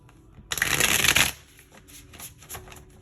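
A deck of tarot cards is shuffled close by, with a loud riffling burst followed by softer taps and card handling.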